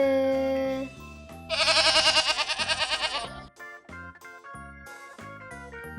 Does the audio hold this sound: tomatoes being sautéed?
no